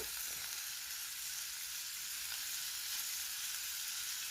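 Steady sizzling of pork frying in a pan over a campfire, a constant crackling hiss with faint pops, fairly close and without any talking.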